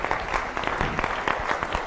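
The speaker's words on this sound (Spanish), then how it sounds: "Un aplauso para ella, por favor." Applause from a live audience at a leadership and charisma seminar, a dense burst of clapping over almost two seconds that holds steady throughout.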